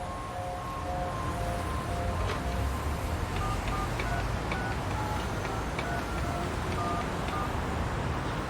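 A phone number dialed in 13 Sentinels: Aegis Rim, a run of short paired keypad tones beeping one after another over a steady loud background hum.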